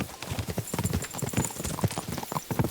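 Horse hooves clip-clop at a quick, uneven gallop in a horse race in the video game Kingdom Come: Deliverance 2, loud and close. Occasional faint game sounds sit beneath the hoofbeats.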